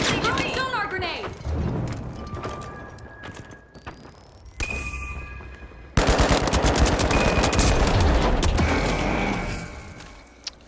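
Gunfire in the video game The Finals, bursts of automatic fire and rapid shots mixed with explosions and game effects, loud and close throughout.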